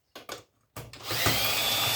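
A cordless drill backs screws out of scrap electronics, with two short bursts and a pause before the motor whirs steadily and loudly up close.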